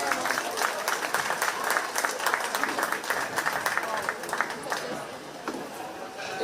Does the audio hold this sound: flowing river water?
no